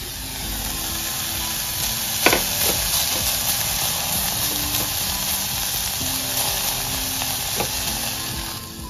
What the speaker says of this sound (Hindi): आता हांव थोडीशी करीपाता हाती घालता